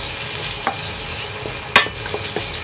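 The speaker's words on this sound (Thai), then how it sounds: "แล้วก็เอาพริกแกงลงไปคั่วนะคะ ให้พริกแกงหอมๆ เราให้เติม ปลาดุกไปนะคะ" Red curry paste and catfish stir-frying in oil in a wok, a continuous sizzle broken by a few sharp scrapes and knocks of the spatula, one louder clack near the middle, with no voices.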